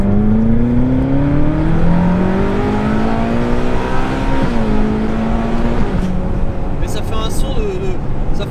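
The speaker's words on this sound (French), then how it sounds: "Ça fait un son d'F430" Ferrari GT car driven on the road, its engine revving in rising, stepped pitch sweeps as it accelerates through gears, loud and close from inside the cabin, ending with a few sharp clicks.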